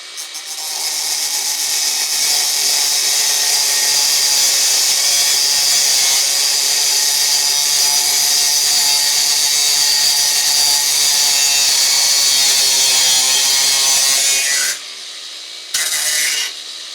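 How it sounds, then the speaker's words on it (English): An angle grinder cuts through a metal basin lever pop-up waste with a loud, steady high-pitched whine and grinding rasp lasting about fifteen seconds, then briefly stops and restarts, with no talking. "My tool of choice for this job is the angle grinder."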